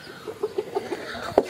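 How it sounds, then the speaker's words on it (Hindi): Roosters and hens on a poultry farm cluck in a run of short, evenly spaced calls, about five in quick succession, ending in a slightly louder squawk; the sound is fairly close and clear with no talking. "ये हमारे दो मुर्गे बहुत लड़ना शुरू हो गए हैं पट्ठे से"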